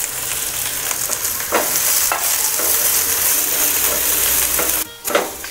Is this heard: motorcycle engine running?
no